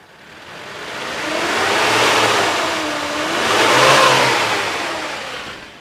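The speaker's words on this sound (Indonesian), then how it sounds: "Nah, kita geber juga sampai RPM 4000, nggak ada suara aneh-aneh" Engine of a 2011 Suzuki Carry Futura 1.5 pickup revved twice toward 4000 RPM, each rise swelling loud and close before easing back, with no talk.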